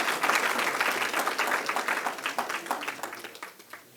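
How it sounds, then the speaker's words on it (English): An audience at a new-members induction ceremony applauds the inductees: dense, sustained clapping from many hands that thins out and fades toward the end. "deserve more resounding applause than what we did"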